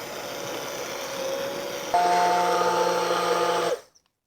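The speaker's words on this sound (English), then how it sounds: "now I'm going to go ahead and take my immersion blender" An immersion blender purees tomato soup with a steady whirring hum that jumps to a higher, harsher pitch partway through, then cuts off abruptly.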